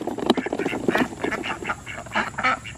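Several ducks quack in a run of rapid, close calls after being let out, with some overlapping nasal honks.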